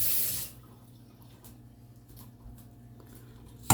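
Tap water runs briefly into a sink to rinse a potato masher, a short splashy burst that cuts off, leaving faint drips and quiet kitchen background.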